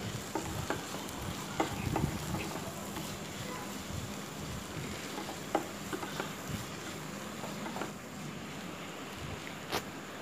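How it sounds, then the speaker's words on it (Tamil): Cumin, pepper and turmeric powder are stirred into a vegetable masala for kothu parotta: faint, irregular spoon scrapes over a soft, steady sizzle in a pan, heard alone and quietly. "cumin powder, pepper powder, turmeric powder எல்லாத்தையும் சேர்த்து நல்லா மிக்ஸ்"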